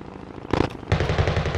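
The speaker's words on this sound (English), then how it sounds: "Where's that shooting coming from?" Gunfire in the battle royale game Call of Duty: Modern Warfare Warzone, a loud burst of rapid shots hitting around the middle, then sustained crackling fire continuing to the end.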